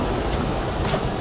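Metro train pulling into a Bangkok station, a steady, loud, close rumble with a broad rushing roar throughout and no voices.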